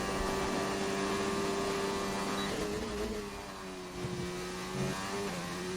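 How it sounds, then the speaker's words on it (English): A race car engine in an Xbox racing game holds a steady high-rev drone, shifting pitch at a gear change partway through, continuous and loud with no voices over it. "Really shifting in those high revs."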